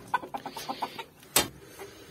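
A hen clucks in a quick run of short, close notes, then lets out one louder, sharper squawk before going quiet.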